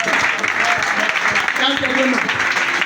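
Applause rises in honour of Jesus during a prayer meeting. It is a steady, dense wash of clapping that runs through the whole moment, mixed with voices speaking and calling out over it.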